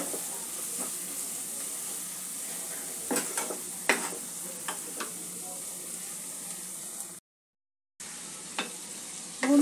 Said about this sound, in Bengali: ভালো করে মশলাটাকে কষিয়ে নিয়ে মশলার তেল ছাড়া পর্যন্ত একটু অপেক্ষা করব।